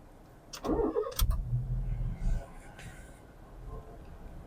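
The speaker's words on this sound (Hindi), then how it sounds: "तो वो अब हम गाड़ी जो स्टार्ट कर रहे हैं" A Honda City car's engine cranks and catches over about two seconds, a loud rumbling burst that settles into a quieter idle, with faint speech nearby.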